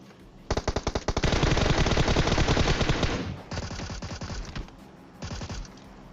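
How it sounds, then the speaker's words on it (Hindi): MK14 rifle fire in the battle-royale game PUBG: rapid, loud bursts of gunfire, starting with a few spaced shots, then a dense sustained volley, followed by two shorter bursts after brief pauses. "और कोई तो यहाँ पे MK14 चला रहा है।"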